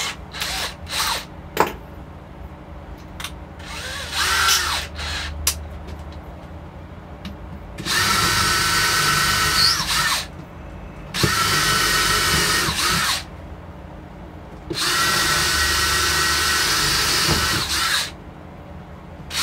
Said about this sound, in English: Just put a couple more screws in.